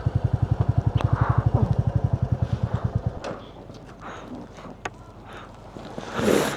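A motorcycle rides toward Madhuri Lake near Tawang, giving a close, throbbing engine pulse for about three seconds. Then the engine drops to a low idle rumble under rustling and handling noise.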